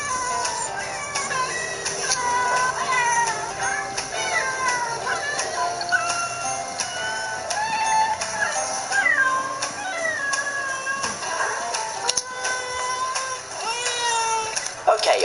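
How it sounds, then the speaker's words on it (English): Ralph, a pet cat, meows repeatedly and insistently in a long run of rising and falling calls, close and fairly loud, with a steady background hum underneath. "he also meows a lot"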